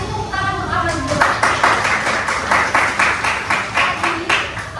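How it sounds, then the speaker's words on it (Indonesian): A classroom group claps together, a burst of dense overlapping applause that builds and holds for several seconds before thinning out. "kasih tepuk tangan untuk Amal dulu."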